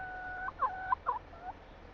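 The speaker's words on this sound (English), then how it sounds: "Never a dull moment around here with the chickens." Chickens cluck and squawk in Farming Simulator 25, a few short fowl calls bunched close together over a low hum, moderately loud and alone.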